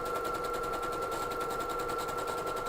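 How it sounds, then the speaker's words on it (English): A sewing machine stitches ribbed knit fabric with an overcast foot, giving a steady, fast, rhythmic mechanical chatter that runs evenly and alone at a moderate distance throughout. "so just start sewing."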